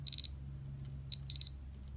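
Casio BG15 boxing calculator game beeping through its fairly large built-in speaker: a rapid burst of four crisp, high electronic beeps, a pause, then a few more quick bursts, loud and close over a low steady hum.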